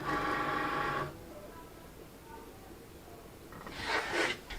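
A Cricut cutting machine loads its mat with a short motorized whirr at the start, then quiet, then a brief burst of mechanical clicking and buzzing near the end.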